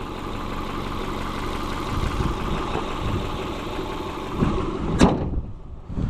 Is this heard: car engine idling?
yes